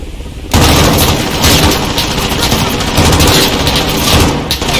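PKM machine gun firing in Modern Warfare 2019, a loud sustained burst that kicks in after a brief pause and hammers on without letup, close and dominant, with a faint voice at the start.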